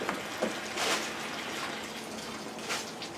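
Water runs from a tap during home beer brewing, a steady close hiss and splash with small surges in flow and no speech.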